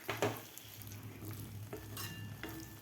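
Ivy gourd (tondli) being stirred in a pan after salt goes in, with a soft continuous sizzle and a few scraping, clinking strokes of a spoon against the metal, no one talking.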